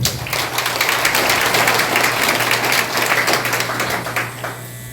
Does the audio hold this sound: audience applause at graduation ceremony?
yes